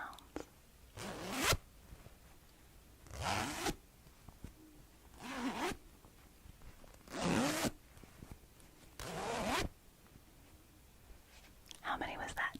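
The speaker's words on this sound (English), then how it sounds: "How many zipper sounds was that?" A pouch zipper is opened and closed in about five quick, rasping strokes, close-up and soft, with quiet whispering in the pauses between pulls.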